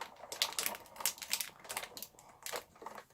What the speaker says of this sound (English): the noise you can hear is actually because of vellum sticking out a bit on the side